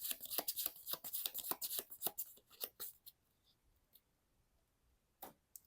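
Playing cards for the Marvel Champions card game shuffled into a deck: a quick, dense run of crisp riffling clicks for about three seconds, then a few scattered soft taps and one final snap, close and alone.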